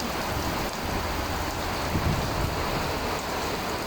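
Heavy rain pours steadily in the UAE, a dense, continuous hiss of drops drumming on surfaces close by, with no voices.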